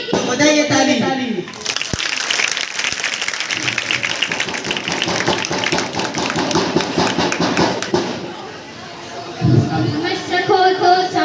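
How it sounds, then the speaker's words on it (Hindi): Audience clapping at an NSS unit street play for Constitution Day, a dense burst of applause rising sharply after a spoken line and running several seconds, then fading into voices and chanting. "तो बजाइए ताली।"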